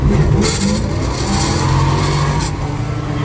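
A manual car pulls away in second gear with no clutch use, its engine note rising in a steady, loud, close drone that holds for a few seconds with no talking.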